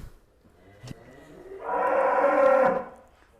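A large cow lets out a single sustained moo up close, rising after a quiet start and holding for about a second before fading, with no talk over it.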